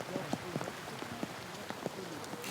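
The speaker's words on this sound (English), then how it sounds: "Listen to the rain come down" Steady rain patters down on a golf tournament as a constant wash, with scattered brief knocks and faint sounds over it.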